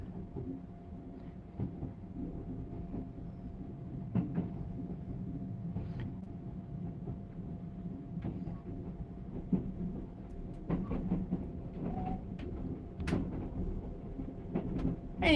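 Steady low rumble of the Sunrise Seto sleeper train in Japan rolling along rails, smooth and fairly quiet, with occasional light clicks and rattles throughout.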